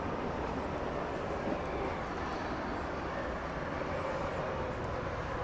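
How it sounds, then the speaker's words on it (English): An American Airlines Airbus A321 arriving at DFW Airport gives a steady, broadband jet roar that holds at an even level throughout, with no talk over it. "American Flight 2605 coming in from Raleigh-Durham in the Carolinas, an Airbus A321"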